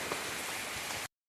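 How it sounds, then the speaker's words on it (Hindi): Steady, dense rain falling around a house, a broadband hiss at moderate level with no voices, cutting off abruptly after about a second. "आज तो पूरा बारिश ही हो रहा है"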